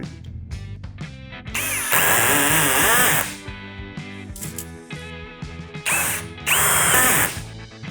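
A Procraft CD20B cordless screwdriver drives a 50 mm screw, its motor whirring in bursts with a loud rapid clutch ratchet rattle near the middle and again toward the end, close and without speech.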